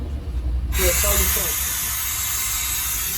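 A DAF truck under repair lets out a sudden, loud, steady hiss of escaping air that starts abruptly and continues unbroken, with a voice briefly heard just as it begins.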